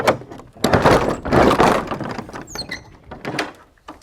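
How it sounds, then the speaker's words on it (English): A stiff old door to the horse stables of a French château grinds and thunks open in several heavy, scraping bursts, with a brief squeak midway and no voices. "The door's a little stiff."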